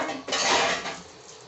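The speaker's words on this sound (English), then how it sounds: "I'm also going to put this in the dishwasher." A metal pan clatters and scrapes as it is set into a dishwasher rack, a short close clank with rattling cutlery.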